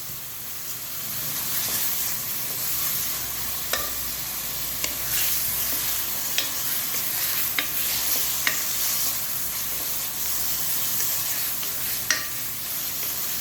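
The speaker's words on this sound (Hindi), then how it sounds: "अच्छे तरीके से इसको फ्राई करेंगे जब तक अदरक लहसुन की अच्छी सी खुशबू आ जाए और चिकन थोड़ा सा सौते हो जाए इसके अंदर" Chicken frying with ginger and garlic in a pan, a steady broadband sizzle running throughout with occasional sharp spatula scrapes and clicks against the metal, loud and close with no voices.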